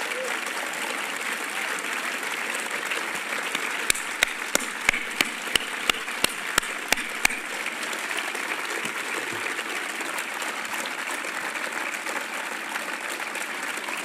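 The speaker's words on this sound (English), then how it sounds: "And can you show applause?" An audience applauds the Hull City of Culture team, a sustained, even wash of clapping from a large crowd, with a run of sharp, evenly spaced nearby claps standing out partway through.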